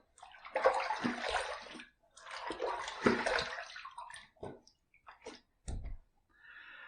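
Water runs from a tap in two long gushes while someone rinses after a wet shave, followed by a few short splashes and drips, close by and with no talk.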